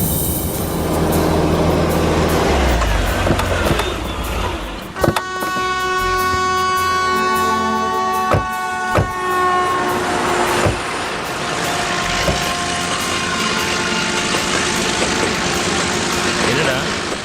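A train passes close along a railway track, with a heavy rolling rumble and its horn sounding long sustained tones partway through, under some talk.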